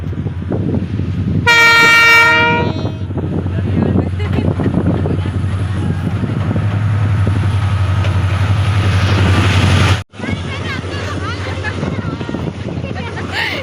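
A passenger train bound for Jodhpur passes near Sambhar salt lake in Jaipur district, sounding a loud horn blast early on over a steady, close rumble of rolling wagons that cuts off abruptly near the end, with voices in the background.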